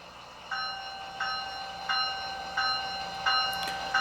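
A bright metallic bell from a Bachmann HO scale SC-44 Charger model locomotive rings steadily, about five strikes evenly spaced over a constant electronic hum, clear and close.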